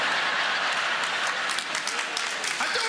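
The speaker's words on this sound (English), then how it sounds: "I haven't got time for your applause." Audience applause at a comedy show, a dense steady wash of many hands clapping throughout, loud and close, with no talk over it.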